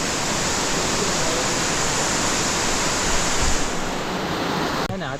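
Heavy monsoon rain pours down at a Ganesh temple in the Konkan, a dense, constant hiss of falling water that stays loud and even throughout, with no voices.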